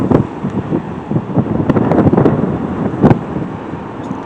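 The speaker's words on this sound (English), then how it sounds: "It's windy here." Strong wind buffeting a microphone in gusty bursts, with a low roar of big waves underneath; no one speaks.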